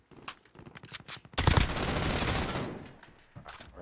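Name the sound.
gunfire in a video game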